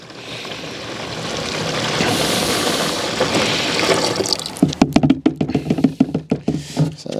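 Lukewarm water pours steadily into a Thetford toilet tank, a continuous splashing fill that builds over several seconds, then breaks into gurgling, uneven glugs and splashes near the end.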